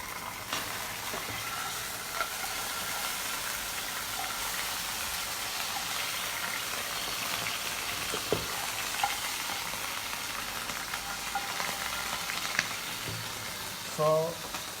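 Ginger garlic paste frying in desi ghee gives a steady, even sizzle and crackle, fairly quiet and close, with a few faint clinks near the end.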